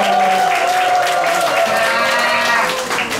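A church congregation applauds during a Sunday service to welcome the director, steady dense clapping throughout, with voices and tonal sounds mixed in underneath.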